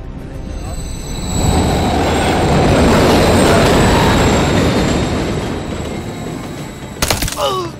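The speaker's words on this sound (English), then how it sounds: "Another train" In the Call of Duty: Modern Warfare III video game, a train rushes past close by as a loud swelling roar with rattling wheels and a faint squeal, peaking mid-pass and fading before a sharp clatter at the end.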